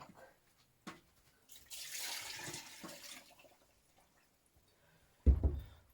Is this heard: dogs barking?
no